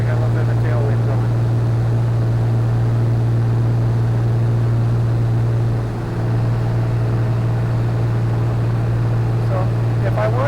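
Constant drone of a Navion propeller airplane engine in cruise flight, a strong steady hum with a low tone and cabin rumble holding unchanged at close range.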